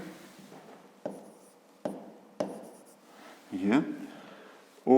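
A pen scratches on paper in short strokes and taps during a fifth-grade maths exercise, close and fairly quiet, with a brief voice sound partway through.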